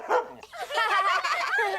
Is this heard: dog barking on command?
yes